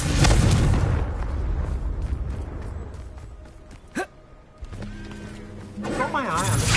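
Confringo fire spells burst during Hogwarts Legacy combat, with one sharp blast standing out amid a dense, continuous clatter of game effects and voice-like sounds.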